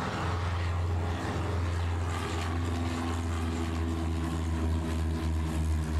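Jet aircraft taking off in the Airport Madness airport control game, a steady loud engine roar with a strong low drone running continuously without pause.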